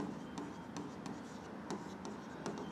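Quiet scratchy strokes of writing on a board, a handful of short marks in irregular rhythm over a faint room hiss.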